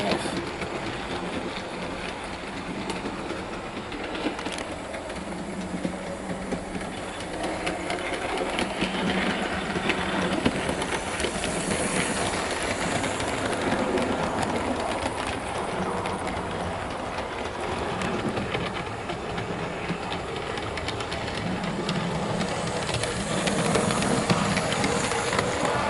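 A Hattons SE&CR P Class 323 'Bluebell' model locomotive hauls three coaches, giving a steady, continuous mechanical whir and rail rumble with faint hiss. It runs alone at moderate level, without speech, and stays fairly even throughout.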